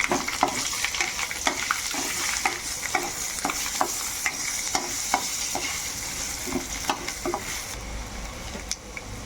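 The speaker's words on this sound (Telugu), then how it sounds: "ఎల్లిపాయలు, ఈ మగ్గనియాలి." Garlic sizzles in a hot pan while being stirred for ridge gourd chutney, a steady close frying hiss broken by regular scraping strokes of the spoon.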